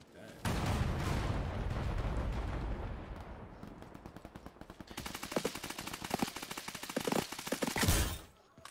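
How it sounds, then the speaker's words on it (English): Heavy mortar barrage in the battle royale game Off The Grid, a sustained roar of impacts followed by rapid, rattling bursts of close gunfire and explosions, with a voice speaking over the din. "Oh, mortar on us."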